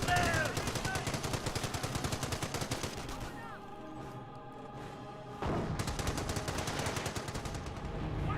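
Aircraft strafe run in the Company of Heroes video game, rapid bursts of machine-gun fire hitting infantry squads, a brief lull in the middle, then more sustained fire.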